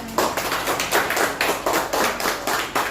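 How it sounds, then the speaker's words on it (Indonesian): Classmates in a school classroom clap for a student returning to her seat, a quick run of rhythmic hand claps in bursts, close and fairly loud, with no talking over them. "kasih tepuk tangan untuk Sandra"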